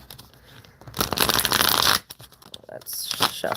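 Tarot cards are riffled and shuffled in crisp, papery bursts, with a short pause between rounds, close and fairly loud.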